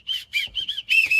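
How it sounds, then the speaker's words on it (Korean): A whistle gives a series of sharp, high blasts in a studio recording session: five short bursts with brief gaps, close and clear, with the last one held a little longer. "호루라기 가볼까?"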